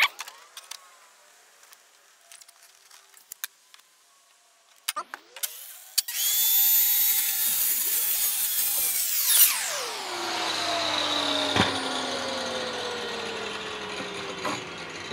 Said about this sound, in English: So now I just have two cuts to make in all of this sheeting to be able to put the ends on the VermBin.